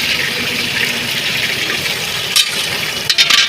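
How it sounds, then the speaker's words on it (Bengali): Five-spice mix (panch phoron) dropped into hot oil, giving a loud, close, continuous hissing sizzle with a few sharper crackles near the end. "তেলটাকে গরম করা হবে পাঁচ ফোড়ন দেওয়া চলছে পাঁচ ফোড়ন"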